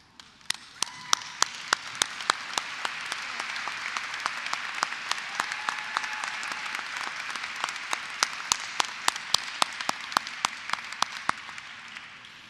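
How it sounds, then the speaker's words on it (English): A crowd applauds at the Fairmont State University College of Nursing pinning ceremony, with full, sustained clapping and crisp individual claps popping through, holding steady before tapering off slightly at the end. "please stand and accept our applause"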